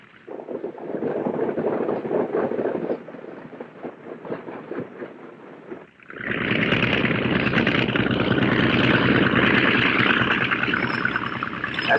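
Lockheed Constellation propeller airliner taxiing to the warm-up block, a steady droning engine roar under wind noise that rises sharply and stays louder and brighter in the second half, with no talk.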